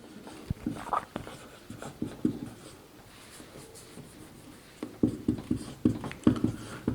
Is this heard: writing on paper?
yes